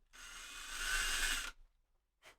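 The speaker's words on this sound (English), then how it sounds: "Just drill a little hole." A short burst of high-pitched drilling of a small hole a couple of millimetres deep in a guitar, about a second and a half, close up, ending abruptly, followed by a brief faint click.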